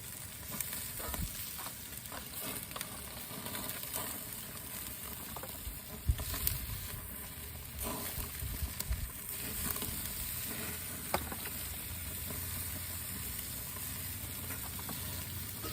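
Smoked barbecue chicken leg quarters sizzling on a smoker grill as they are basted, giving a continuous dense frying crackle with light pops and patter, close and steady, no speech.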